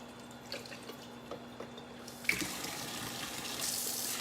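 Cold tap water runs into a kitchen sink over a pot of boiled eggs cooling with ice, a steady splashing rush that swells louder midway, with faint clinks and drips earlier and no voices.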